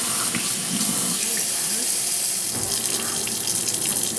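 Water runs steadily from a household sink tap, a close, continuous rushing hiss that holds even for the whole stretch.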